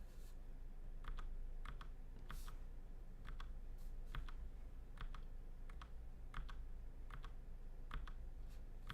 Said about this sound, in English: Command R on my keyboard here, just refreshing the page.